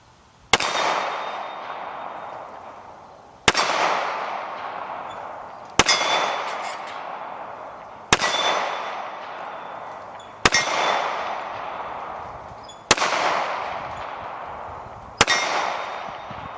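Seven sharp pistol shots from a Colt Night Defender lightweight ring off small steel targets downrange, each crack followed by a decaying metallic clang, spaced a couple of seconds apart.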